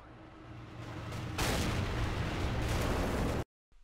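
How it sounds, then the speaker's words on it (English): Artillery strike explosions in the tank game Armoured Warfare: a rumbling build of distant blasts swells into a loud, sustained barrage of booms, then cuts off abruptly to silence. "Let's get another artillery strike in"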